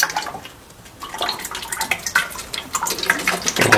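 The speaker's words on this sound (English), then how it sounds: "So I'm gonna fill up the transmission oil right now." Transmission fluid is poured into the transmission of a 2016–2018 Lexus RX350, making an uneven liquid gurgle and splashing close by that swells louder toward the end.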